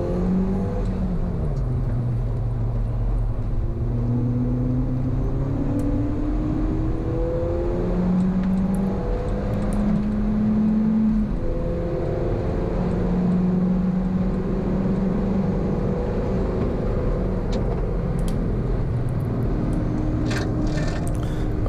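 A Ford Fiesta ST lapping Cadwell Park race circuit drones steadily from inside the cabin, its engine note rising and falling through gear changes and acceleration over a constant road and wind rumble.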